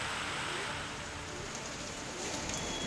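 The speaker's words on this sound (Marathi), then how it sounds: "संभाजीनगरच्या वैजापूरमध्ये झालेला पाऊस, गारांचा पाऊस" Hailstorm rain falls over fields in Vaijapur, Sambhajinagar, as a continuous, even, broad hiss of dense rainfall that holds steady throughout, with no voices.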